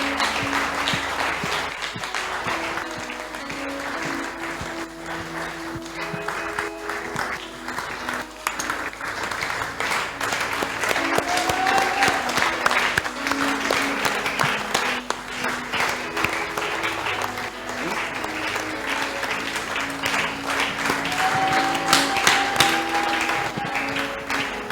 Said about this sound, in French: on acclame très fort alors qu'elle avance